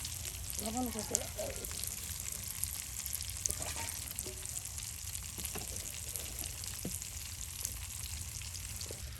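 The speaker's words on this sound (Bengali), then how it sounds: "আর এদিকে মাছ ভাজা শেষ।" Fish sizzles in a pan of hot oil with a steady, fairly faint hiss that runs unbroken for several seconds, accompanied by occasional soft stirring clinks.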